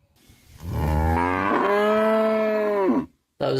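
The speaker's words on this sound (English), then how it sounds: "That was just an angry moo." A cow lets out a single long, loud, drawn-out angry moo lasting about two and a half seconds, rising then holding steady before cutting off, heard alone at close range.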